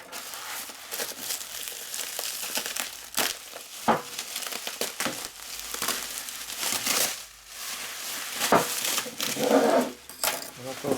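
Paper wrapping being pulled and crinkled off an early-1950s Harley-Davidson Panhead motorcycle cylinder, with steady rustling and crumpling, occasional sharp crackles and clunks, close up, mixed with voices talking.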